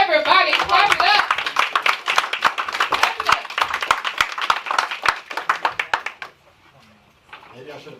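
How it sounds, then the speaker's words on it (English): Audience clapping at a podcasting event, a burst of many hands over cheering voices that dwindles to a few distinct claps before fading to quiet, close and lively. "come on up, introduce yourself, everybody, clap it up."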